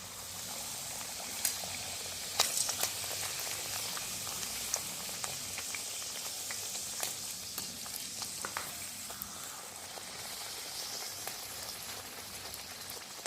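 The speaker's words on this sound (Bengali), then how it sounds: "আর এখানে আমার তেলটাও গরম হয়ে গেছে এবার একটা একটা করে ছেড়ে আমি ভেজে নেব" Green peas kachoris frying in hot oil, a continuous crackling sizzle like steady rain, with scattered pops and spatters throughout and no talking.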